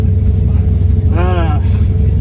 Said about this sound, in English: Warming the engine up a little bit because it's only like 50 degrees now